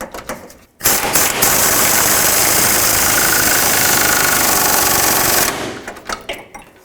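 A pneumatic air impact gun snugs the rear bolt of a front lower rearward control arm on a 2004-2008 Acura TL, one loud, close, continuous rattling burst of about four and a half seconds between quiet moments.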